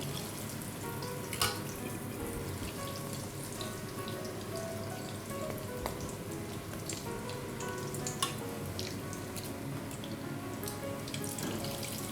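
A breaded cutlet, dredged in flour and egg, frying in hot oil: a steady, faint sizzling hiss with scattered small crackles and pops, continuous throughout, with no one talking.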